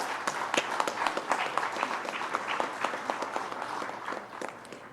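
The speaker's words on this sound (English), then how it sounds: "Please join me in welcoming him with warm applause." A room of people applauds steadily, a dense patter of many hands clapping at moderate volume with no voices over it.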